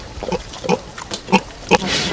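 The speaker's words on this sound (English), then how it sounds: "They're flaming pigs, not goats." Farm pigs grunt and oink in about five short, close bursts in a quick, uneven rhythm.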